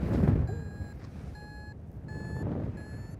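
Paraglider's variometer chirping while climbing in a thermal above Tahiti: four evenly spaced bursts of rapid high beeps over rushing wind noise, the beeps clear but modest in level.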